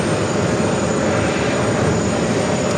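Frontier Airlines jet in Reef Shark livery arriving at JFK from Denver, a loud, steady broadband engine roar close by with no talking.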